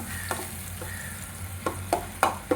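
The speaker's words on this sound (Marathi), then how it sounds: "आलं आणि मिरची हे आपण छान परतून घेऊ शिजवून घेऊ" Crushed ginger and green chillies sauté in oil in a pan, a soft steady sizzle broken by several sharp stirring scrapes toward the end.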